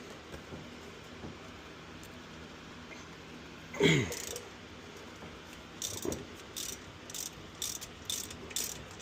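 A regular ratchet loosens the rear upper control arm bolts on a C6 Corvette, with a louder metallic clank midway followed by several quick bursts of clicking near the end.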